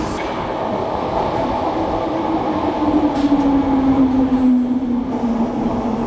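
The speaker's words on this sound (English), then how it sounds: "Another train now. These actually sound cool." Steady rumble of a London Elizabeth Line underground train in motion, with a motor whine rising and falling in pitch through the middle.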